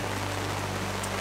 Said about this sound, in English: So, Adrian, how's it setting it up in the pouring rain?